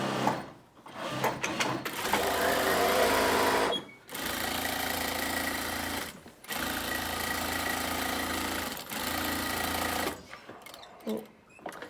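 Sewing machine stitching through fabric mask layers and tape, close and loud in a rapid whirring buzz that runs in several bursts of a few seconds each, separated by brief pauses.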